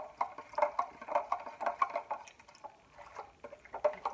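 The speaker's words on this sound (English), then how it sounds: "And let me give it a stir." Spoon stirring a small mixture of soy sauce and other ingredients for a crockpot pork roast, giving quick, light, wet clinks and swishes in an uneven rhythm, close by and without talk.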